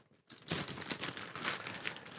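A plastic bag is opened up close, giving a steady crinkling, rustling crackle that runs for about two seconds after a brief quiet start.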